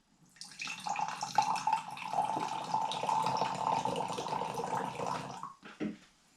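Water pours from a cheap container bought online and tested for leaks, a steady splashing stream running for about five seconds before stopping, close and fairly loud, with no talk over it.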